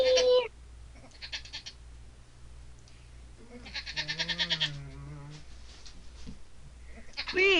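A person imitates baby goat bleats with a series of wavering, nasal vocal cries, including a sustained quavering bleat in the middle, mixed with brief higher sounds.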